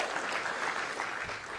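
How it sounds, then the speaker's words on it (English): Audience at a Factory Five 30th Anniversary Type 65 Coupe unveiling claps in a dense, steady burst of applause, fairly close and alone, tapering slightly at the end. "A round of applause for Christy."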